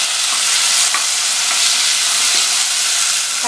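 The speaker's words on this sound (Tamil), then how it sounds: "தக்காளியை 1 நிமிஷம் போல் வதக்கி விட்டுக்கணும்." Tomatoes sauté with onions in hot oil for sambar rice, giving a loud, dense sizzle with soft stirring scrapes throughout, close and continuous with no talking.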